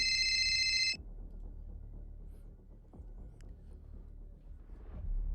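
A telephone rings once at the start with a bright electronic trill lasting under a second, followed by a quiet low hum and faint room noise.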